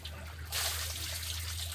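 Water pours over a person's head to rinse off soap foam, a sudden close gush that starts halfway through and keeps splashing steadily over a low background hum.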